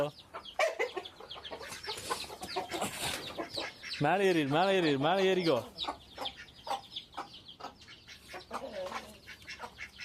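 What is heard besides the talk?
chickens clucking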